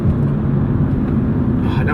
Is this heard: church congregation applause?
no